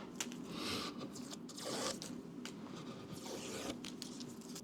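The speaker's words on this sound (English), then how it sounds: "Let's get the tape off." Strips of tape are peeled off a virtual pinball control panel, a series of close, raspy tearing and crackling pulls with short pauses between them.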